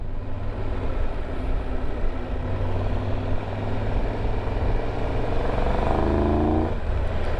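A 2022 Triumph Tiger 1200 motorcycle's engine hums steadily while riding, with wind noise over it and a rising engine note near the end.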